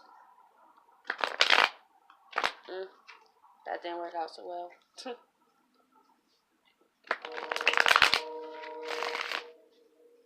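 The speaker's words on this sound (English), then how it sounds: "Just going to do a couple shuffles." Tarot cards being shuffled in quick riffling bursts, two clusters separated by a pause, with a voice speaking between them.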